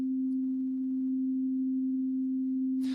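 A synthesized pure sine tone holds one steady, loud pitch for about three seconds on its own, then cuts off with a brief burst of noise.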